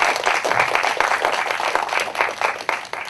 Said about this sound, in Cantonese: 係，俾啲掌聲啊！